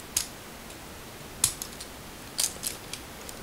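Plastic joints of a Revenge of the Fallen Sideswipe Transformers figure click and tick as the hands fold out, three small quick clusters of sharp snaps over a quiet room background.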